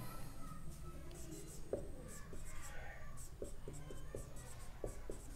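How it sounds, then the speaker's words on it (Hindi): Pen or chalk writing during a physics lecture on lens aberration, faint scratchy taps and short strokes over steady room noise, with soft murmuring in the background. "चलिए आगे लिखते हैं अब।"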